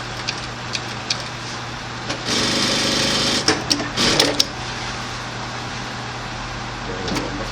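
A JUKI DDL-900C industrial lockstitch sewing machine runs in a steady loud whir for a couple of seconds with a brief speed surge, surrounded by quiet motor hum and a few sharp clicks, close up with no speech.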